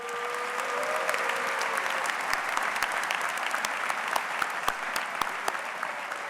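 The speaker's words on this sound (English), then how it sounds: "Let's give Maribel another round of applause." A large audience at a university graduate commencement ceremony claps steadily, a full, continuous wash of applause with sharper individual claps popping out near the front.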